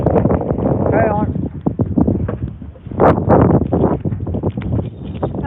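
Strong wind blowing outdoors in the dark, roaring steadily and buffeting the microphone throughout, with gusts swelling around the middle while a person talks over it.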